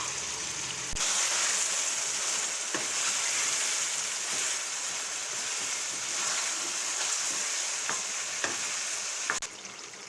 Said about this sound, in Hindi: अब साथ इसमें टमाटर ऐड कर देंगे और उसे भूनेंगे